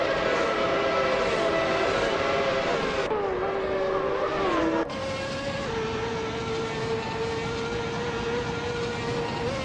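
Steady engine drone from 1994 Ferrari F355 Challenge race cars in a racing video game, with sustained tonal whine that shifts pitch abruptly as gears change, loud and continuous throughout.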